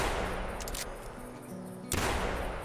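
A 12 or 10 gauge shotgun fires at ducks in theHunter Classic: a muffled shot, then a louder, sharp blast near the end that rings out, with no talking.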